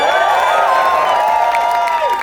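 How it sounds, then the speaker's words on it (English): A dense crowd at a political rally cheers, whoops and claps loudly and without a break, a sustained roar of voices with some high shouted tones. "can we have a big round of applause for DSA?"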